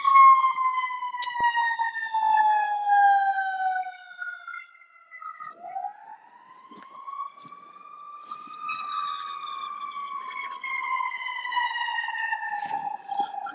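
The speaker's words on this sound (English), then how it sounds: "an ambulance flies by as I'm recording this" A loud wailing ambulance siren sweeps up and down in pitch as the ambulance passes close by, fading and swelling again.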